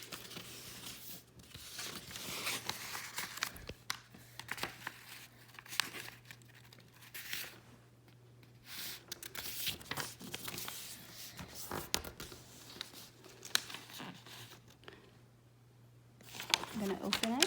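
A square sheet of origami paper being creased and folded into a triangle, with crisp crinkling and rustling handling sounds scattered through, plus a louder paper rustle near the end, close up, with a steady low hum underneath.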